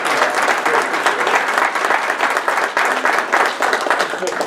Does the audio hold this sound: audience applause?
yes